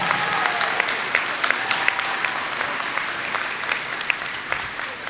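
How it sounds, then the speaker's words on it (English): High school graduation audience clapping for the cafeteria staff, steady, moderately distant applause from a large crowd with scattered sharp individual claps standing out, sustained for several seconds. "Let's give them a big round of applause."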